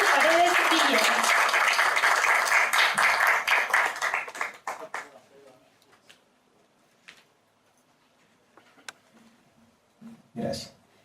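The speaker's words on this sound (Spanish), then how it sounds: "Lo recibimos con un fuerte aplauso." An audience at a history archive event gives loud applause to welcome a speaker, strong dense clapping for about four seconds that tapers off into scattered claps, quiet, and a few faint sounds.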